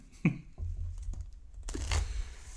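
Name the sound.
shuffling playing cards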